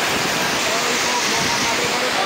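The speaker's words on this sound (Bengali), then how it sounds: "একবারে মুষলধারে বৃষ্টি হচ্ছে" Heavy downpour over a market area, a dense, steady roar of rain filling the whole stretch without a break, fairly loud and close.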